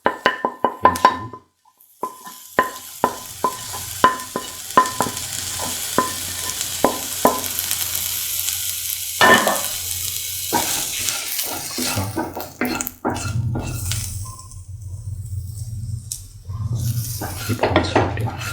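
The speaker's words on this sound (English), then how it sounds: "Keep on sauteing" Coriander, fennel, pepper and turmeric powders sautéed with green chili in a pan: a spatula scrapes and taps the metal in a quick irregular rhythm over a soft sizzle, with a brief pause and a running tap near the end.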